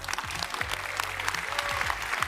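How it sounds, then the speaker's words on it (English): Steady applause from an audience, dense clapping throughout with a few murmuring voices underneath. "Yeah, let's all clap."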